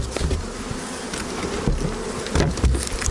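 Dense, close buzzing of many honey bees swarming around a hive, a continuous droning hum with individual bees passing near.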